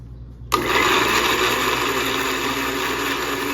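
Mixer grinder blending small onions and tomatoes, switching on abruptly after a moment of quiet and running as a loud, steady whirring roar to the end.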